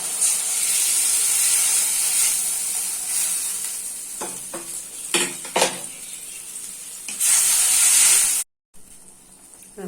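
Hot water poured into a pan of mustard and lightly fried ingredients for a Bengali prawn and potato dish, giving loud hissing and sizzling that fades, then stirring scrapes and clinks before a burst of sizzle returns.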